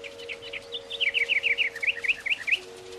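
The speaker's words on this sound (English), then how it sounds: "A little bird is singing near his window." A small songbird sings close by a window, a quick run of bright chirping notes that grows busier and louder in the middle before tapering off, over a steady low hum.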